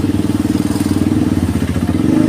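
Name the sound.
old motorcycle with non-original brong exhaust running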